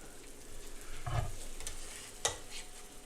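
Grilled cheese sandwiches frying in a hot pan, a soft continuous sizzle with a low thump and a sharp click from handling them, close and quiet with no speech.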